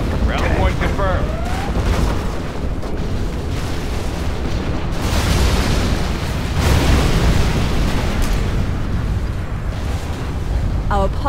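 Deep rumbling blasts and booming nuclear missile explosions roll continuously in a Command & Conquer Generals Zero Hour soundscape, with a brief electronic voice chirp near the start and end.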